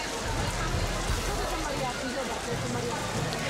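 Steady rain falls on a street in Lviv, Ukraine, a continuous broadband hiss of drops on wet pavement lasting throughout, with low rumble underneath and no talk.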